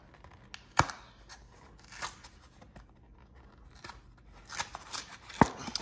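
Cardboard sticker hanger box being torn open by hand, irregular crisp ripping and crinkling bursts up close, fairly quiet, with no talking.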